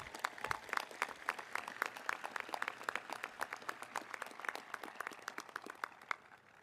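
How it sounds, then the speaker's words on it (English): A round of applause for school staff at a high school commencement ceremony, with distinct individual claps from a modest crowd rattling along quietly and thinning out toward the end. "So we could have a round of applause for our wonderful staff"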